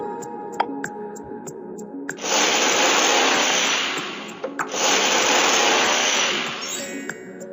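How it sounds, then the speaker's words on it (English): A power drill whirs loudly in two sustained bursts of about two seconds each, drilling a small hole in a bottle cap, separated by a short pause, with quiet clicks and handling noise around them. "Make a small hole in the bottle cap with drill machine."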